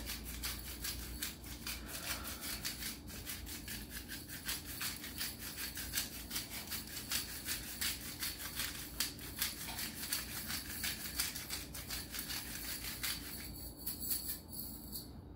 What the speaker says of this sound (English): We're grinding up our Himalayan salt.